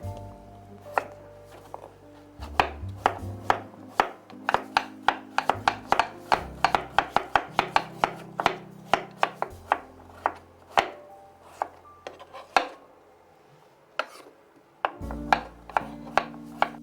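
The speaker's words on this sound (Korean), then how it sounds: "그 다음에는 감자를 썰겠습니다" A knife chops potatoes on a cutting board in a Korean home kitchen, with crisp, close, regular strikes that speed up into quick runs with short pauses between them.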